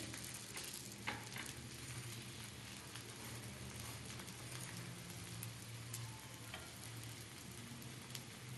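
Onion uttapam fries in oil on a pan, giving a steady, gentle sizzle and crackle that runs evenly throughout at close range, with no talking.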